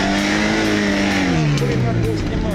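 A 4x4 off-road vehicle driven hard in low range across sand, its engine droning loud and steady with harmonic pitch slowly falling then shifting, close up, with voices talking over it.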